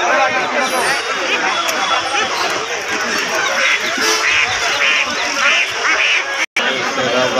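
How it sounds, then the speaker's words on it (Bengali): Many domestic ducks quacking together in a noisy, continuous chorus at a poultry market, with people talking in the background throughout. "দেশি হাঁস"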